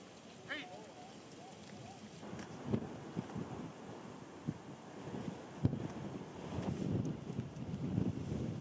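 Gusty wind buffets the microphone in the Mourne mountains, a rough, low rumble swelling and easing in irregular bursts, with a person talking faintly underneath.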